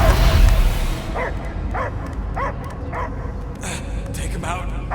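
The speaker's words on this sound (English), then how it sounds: "I hear only barking." A dog barks repeatedly in Marvel's Guardians of the Galaxy video game, a run of short evenly spaced barks over a loud game soundscape after an initial burst of noise.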